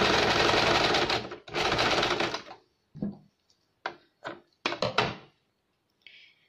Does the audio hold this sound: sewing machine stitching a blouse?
yes